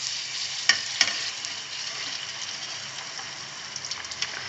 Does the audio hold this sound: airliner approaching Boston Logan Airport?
no